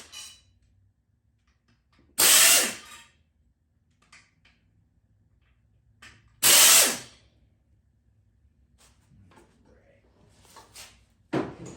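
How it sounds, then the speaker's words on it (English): A throttle plate is taken off the Briggs and Stratton engine of a 2003 Huskee mower. Two loud, short bursts of a power tool stand out against a quiet background, with a few small clicks and knocks between them. "we're gonna go ahead and take this throttle plate off of here"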